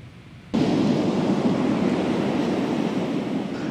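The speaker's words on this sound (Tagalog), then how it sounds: "Nagngangalit ang alon sa bahaging ito ng West Philippine Sea sa tapat ng barangay Kaawakan, Lawag, Ilocos Norte." Stormy sea waves off Ilocos Norte on the West Philippine Sea crash in a loud, dense, continuous roar that starts abruptly after a brief quieter moment, mixed with heavy wind buffeting.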